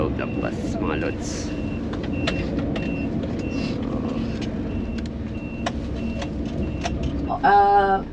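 Inside a tour bus on a north-coast Taiwan trip: a steady low engine rumble and cabin hum run throughout, with small rattles and clicks and a brief electronic chime near the end.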